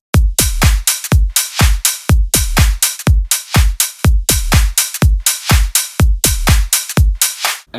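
Punchy drum loop on a drum bus with a heavily compressed parallel layer blended in, steady kick-and-snare pattern with fat low thumps and elongated tails, loud and close with no talking.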